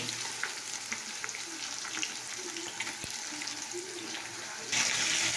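Fish oil frying in a pan while being stirred, a steady close hiss with small scraping ticks, rising into a louder, brighter sizzle near the end.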